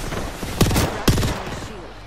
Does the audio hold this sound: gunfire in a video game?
yes